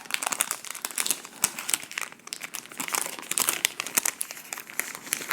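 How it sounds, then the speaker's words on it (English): Parchment paper being peeled off a hot pumpkin roll sponge cake, a close, continuous crinkling and tearing rustle with brief crackles, and no one talking. "you're going to pull this parchment paper off of your sponge piece"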